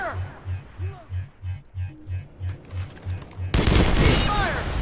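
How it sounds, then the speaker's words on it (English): Friendly automatic gunfire in the Planetside 2 shooter: a steady, rapid run of evenly spaced low thumping shots, closing with a sudden, louder burst of dense, noisy blasts. "Friendly fire!"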